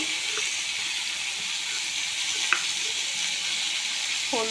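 Potatoes and Brahmi greens frying in oil with turmeric, a steady broad hiss and sizzle running throughout, with a brief clink near the middle and a short voiced sound at the end.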